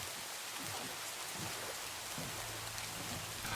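Heavy rain at night in the video game Minecraft, a dense, constant downpour hiss with faint low rumbles beneath, steady and close throughout with no voices.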